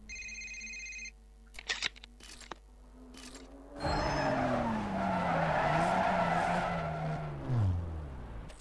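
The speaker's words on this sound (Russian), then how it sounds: "Шикарное торможение." A car in Need for Speed: Most Wanted (2005) brakes hard, setting off a long loud tire skid and squeal over engine noise after a few brief game interface beeps.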